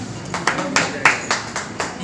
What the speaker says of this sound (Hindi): आप ताली बजाते रहिए